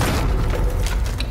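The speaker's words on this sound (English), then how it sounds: "So he threw the bomb at Nate" A bomb blast from a music video gives a brief, heavy, booming rumble that stays loud through the moment and then decays slightly.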